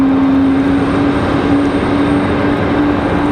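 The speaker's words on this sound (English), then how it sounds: "I hear another A220." A JetBlue Airbus A220 departing Raleigh-Durham gives a loud, continuous jet roar with a steady whining engine tone running through it, close and unbroken, with no talking.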